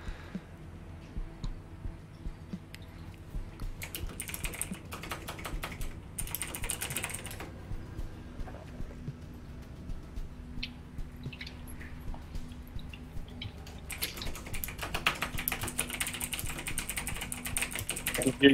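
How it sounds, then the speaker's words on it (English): Frantic typing on a computer keyboard comes in quick bursts of rapid, light clicks with short pauses, fairly faint and close in a quiet room. "I can hear you frantically typing down"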